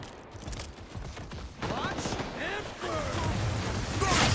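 Gunfire in the shooter Highguard crackles in bursts amid in-game effects, building louder toward the end, with voices talking over the shooting.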